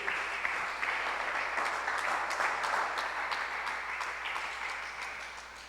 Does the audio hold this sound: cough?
no